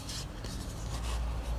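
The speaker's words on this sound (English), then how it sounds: "I'll finish off my wingtips with the sanding bar" A sanding bar rubs over balsa wood wingtips of a model glider, making steady, close, dry rasping strokes with short rhythmic bursts and no talking.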